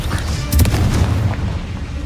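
A Confringo spell detonates in Hogwarts Legacy, one heavy booming blast with a sharp onset followed by a rumbling low tail that fades quickly, loud and close.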